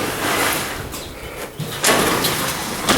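A farm shed door for pheasants is pulled partly closed, giving a short scraping slide and a soft knock, then a brief second bump, heard close with outdoor background and no talking.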